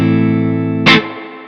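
Electric guitar played through a BBE Screamer overdrive pedal with a bright tone setting, a sustained chord ringing alone before a sharp bright pick attack and a decaying tail.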